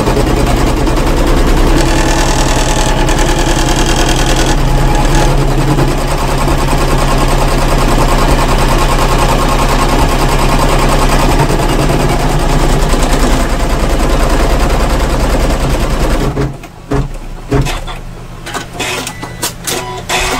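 A computerized embroidery machine stitches around to tack fabric down, a loud, steady, close mechanical hum and rapid needle clatter that runs on unbroken, then stops abruptly into quieter scattered clicks and handling.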